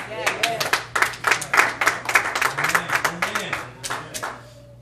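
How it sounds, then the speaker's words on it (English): Scattered clapping from a small church congregation pops out in a loose, uneven rhythm for several seconds, with a preacher's voice talking over it. "Thank you for the ten y'all clap"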